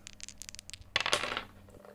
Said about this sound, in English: Now let me roll the dice.